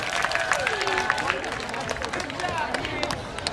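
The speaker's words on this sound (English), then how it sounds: "Let's give these little kids a round of applause." An audience at the Asian Food Fest 2018 applauds a children's performance, continuous clapping and cheering with crowd chatter and scattered voices throughout.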